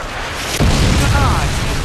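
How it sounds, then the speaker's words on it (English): A friendly missile explodes in a helicopter deathmatch video game, a sudden loud boom that rolls into a sustained rumbling roar, close and heavy. "Friendly missile inbound."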